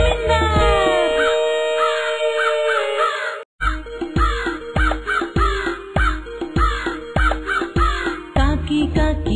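Repeated crow caws sung within a Telugu nursery rhyme, a steady rhythmic series of loud caws riding over bouncy children's music with percussion, following a brief sung passage.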